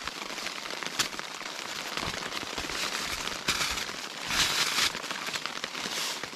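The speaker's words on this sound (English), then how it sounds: "And we just made it in time because it's starting to rain" Steady rain patters on a tent during a winter backpacking trip on the Appalachian Trail, a dense, even hiss of drops with brief louder bursts and no talking.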